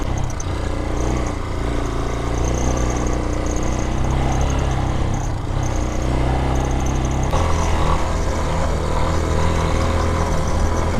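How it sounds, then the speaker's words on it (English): A Vitacci Raven side-by-side drives through sand with a steady, loud engine drone and a continuous rumble that does not let up for the whole stretch. "Gotta love driving in the sand."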